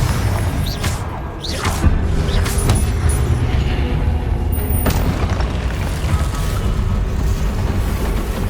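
In Hogwarts Legacy, a Confringo fire spell sets off booming explosions with heavy crashing impacts, layered over a continuous roar of game action and effects.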